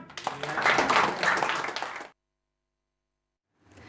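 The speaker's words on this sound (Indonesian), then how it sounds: "tepuk tangan." An audience at a business seminar breaks into clapping, a dense wash of applause lasting about two seconds that cuts off abruptly into silence before a faint sound returns.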